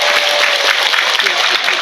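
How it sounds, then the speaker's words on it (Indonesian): Steady, dense applause from a large women's religious gathering, a bright hiss of many hands clapping at once, with a faint voice beneath. "Tepuk tangan sepisan maning kok."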